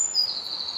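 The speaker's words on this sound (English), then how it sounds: "let's listen to that bird for a little bit" A bird singing outdoors during a countryside walk, a thin, high, sustained whistling note with slight flickers, heard alone over quiet ambience.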